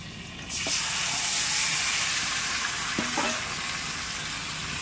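Marinated chicken pieces for biryani frying in a pan with browned onions, a steady loud sizzle throughout with a couple of brief clanks of a utensil, no voices.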